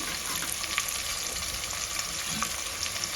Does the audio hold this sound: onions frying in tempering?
yes